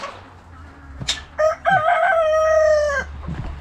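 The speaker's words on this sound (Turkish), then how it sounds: "tavuklar geldiler" A rooster crows loudly nearby, one long drawn-out call, with scattered clucks from chickens and a sharp squawk just before it; no talking.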